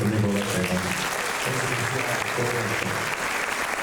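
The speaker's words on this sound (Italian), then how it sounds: "un applauso anche al nostro amico Vattera." Dense, steady applause from an audience at an evening memorial concert in Buja, Italy, held by an Alpini group, filling the whole stretch with a low murmur of voices underneath.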